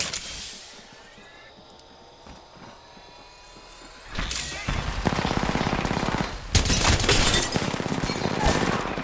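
Gunfire in the Apex Legends video game: after a quiet stretch of faint ambient tones, heavy automatic fire breaks out, fast and loud, with bursts of rapid shots continuing to the end.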